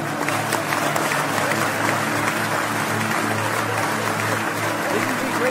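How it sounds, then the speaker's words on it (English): Continuous dense applause from a group, steady and even throughout, with a low background hum underneath and no clear voices. "Give them a round of applause"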